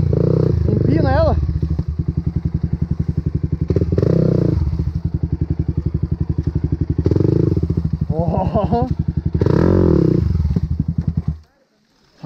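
A dirt bike engine on a trail revs and roars in repeated surges, loud and close, with a rough throttle-up about every three seconds, then suddenly cuts out near the end.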